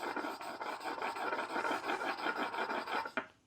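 Steady back-and-forth rasping of a linocut carving tool's back surface worked over a sharpening stone, a rhythmic gritty scrape repeated many times, close and alone, ending with a brief clack.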